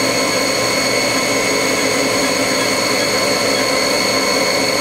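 The spindle of a Haas HS1RP horizontal machining center spins at 5000 RPM, a loud, steady high-pitched whine with strong tonal bands and an even, unbroken drone, no talking.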